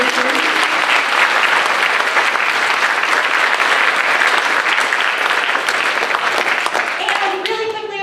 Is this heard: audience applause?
yes